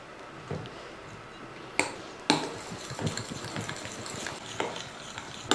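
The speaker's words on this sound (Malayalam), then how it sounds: "ഇങ്ങനെ അങ്ങോട്ട് സ്പൂണും കൊണ്ട് ഒന്ന് ഉടച്ചെടുക്കുക" A spoon mashes chocolate ice cream in a glass, giving soft scraping and stirring noise broken by a few crisp clinks against the glass, close and moderately quiet.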